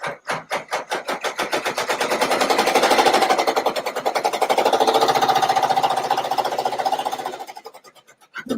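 A sewing machine running a tack-down stitch with white thread: rapid, steady mechanical hammering that starts in short bursts, settles into a continuous loud run for several seconds, then slows and stops, close up with no speech.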